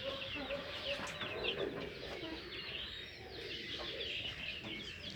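Fayoumi chickens, four-month-old hens and roosters on a small farm, cluck and call steadily throughout, fairly close, with constant overlapping bird voices and no talking.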